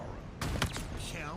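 A sniper rifle in a Halo match fires one sharp, punchy crack, followed by a short tail of echoing game effects and a rising electronic tone.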